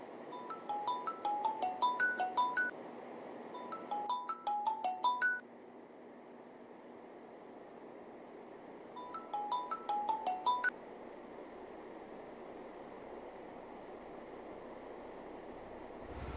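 A mobile phone ringtone goes unanswered in a Malayalam short film, playing as three bursts of a bright repeating melody over a steady low hum, then stopping and leaving only the hum.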